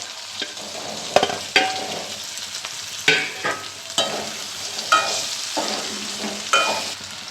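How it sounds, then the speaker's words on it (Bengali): Boiled green bananas fry in a pan of hot oil, a steady sizzle broken by repeated scraping stirs and clatters of a spatula, close and fairly loud, with no talking. "এবার আমি সেদ্ধ কলাগুলো এতে দিয়ে দিচ্ছি"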